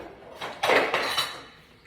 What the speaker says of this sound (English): So I'm using the dome for the 5-quart. Actually, this is the 5-quart base, and this is the 11-inch skillet at the bottom.